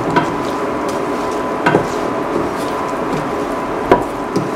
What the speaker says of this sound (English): Thoroughly mix the salt